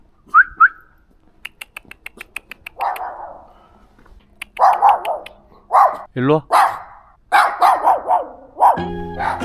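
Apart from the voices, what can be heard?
dogs barking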